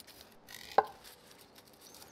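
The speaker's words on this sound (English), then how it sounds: "let's get the corn cut off the cob" A chef knife cuts corn kernels off the cob for grilled street corn. One crisp chop lands against the board amid quiet, soft scraping, with no voices.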